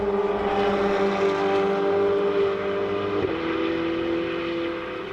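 Turbocharged 3.9-litre 90-degree Ferrari V8 race cars lap the Circuit of the Americas in a Ferrari Challenge race, a steady droning engine note heard from a distance, with a brief pitch shift as one passes and slowly fading.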